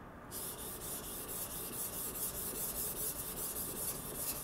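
A Yoshikane 180mm petty knife of SKD-11 steel is sharpened freehand on a whetstone, giving a continuous close, gritty rasping that pulses with each stroke and carries no voices.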